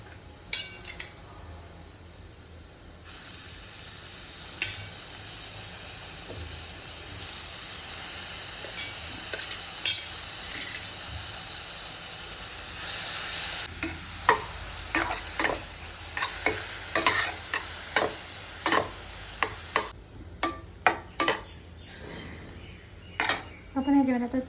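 Ridge gourd being stirred into browned onions in a pan over low gas: a steady soft sizzle with repeated sharp scraping clicks of a spoon against the pan, growing more frequent toward the end, while someone talks at times.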